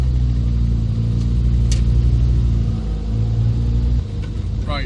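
A classic Mini rumbles along a bumpy road on the Isle of Wight, its engine droning low and steady with slight shifts in pitch and a brief lull near the end.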